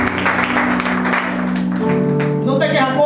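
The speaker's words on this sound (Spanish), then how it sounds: "Dale un aplauso al Señor." A church congregation applauds during a Spanish-language service, clapping briskly and loudly while sustained organ or keyboard tones ring beneath and voices speak over the noise.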